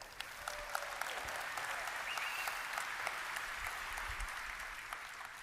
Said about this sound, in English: You guys deserve a hand of applause.